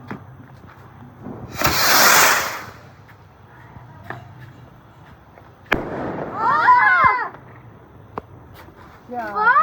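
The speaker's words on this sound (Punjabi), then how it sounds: "ਬਸ ਹੁਣ ਕਿ ਜਾਓ ਚੱਕਰੀਆਂ ਜੁਗਰੀਆਂ ਚਲਾ ਲਓ" Diwali fireworks at a family home: a loud hissing whoosh of a ground spinner fountain, scattered sharp cracker pops, and later another fizzing burst, with voices talking nearby.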